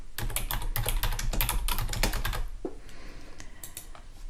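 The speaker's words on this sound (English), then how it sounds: "go to each text box, highlight the text and type in our new messages." Rapid clacking of fingers typing on a computer keyboard, a dense run of close keystrokes that thins to a few scattered taps near the end.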